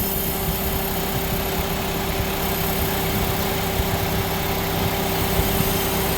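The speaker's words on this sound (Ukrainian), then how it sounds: "Ми шліфуємо залишки." Steady, continuous grinding wheel drone on metal, with a constant hum and broadband grinding noise, running evenly throughout without pauses or speech.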